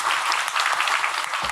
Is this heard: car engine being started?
no